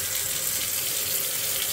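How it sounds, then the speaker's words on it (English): Hot water runs steadily from a tap while a dirty thermos is rinsed out, a constant close splashing hiss with no talking. "I'm going to start rinsing it with hot water now, and you can still see the flakes of crud coming out."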